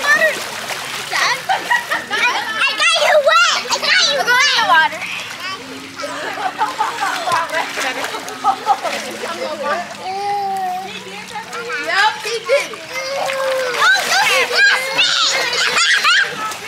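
Child splashing and swimming in a pool, water sloshing and splattering throughout amid near children's voices and adult talk.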